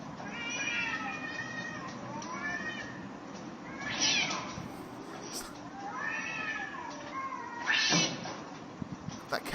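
A cat, provoked by a crow, meows and caterwauls in drawn-out, wavering yowls, with two loud peaks and quieter cries between them, heard at a moderate distance over faint background noise.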